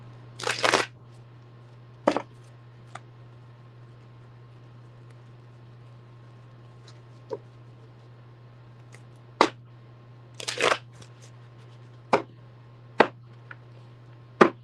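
A deck of cards gets shuffled in a few short riffling bursts spaced across a quiet room with a steady low hum, each burst brief and close, scattered between faint taps.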